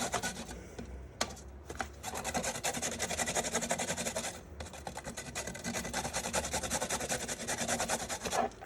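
Carrots scraped over the coarse side of a hand grater that collects shreds in a dish below, making a close, steady rasping rub in repeated strokes with brief pauses between passes.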